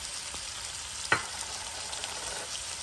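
Spices sizzle quietly in a pan with eggplant and potatoes as they are stirred and sautéed, a soft steady frying hiss with one brief scrape of the spoon, low and close, no voices.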